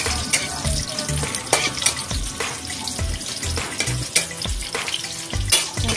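Garlic and onion crackle and sizzle in a hot pan, a loud, busy frying hiss punctuated by repeated utensil scrapes and knocks while stirring, with no talking.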